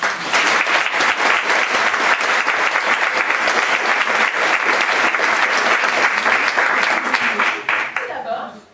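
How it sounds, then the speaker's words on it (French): An audience applauds archive specialists at a French theatre event, a dense, loud wash of clapping that holds steady and then tapers off at the end. "Nous pouvons les applaudir"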